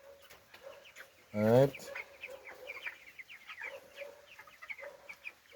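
Three-week-old broiler chickens on a Jamaican farm give soft, scattered clucks and peeps throughout, with one loud, close, harsh squawk early on and a brief spoken word over the flock.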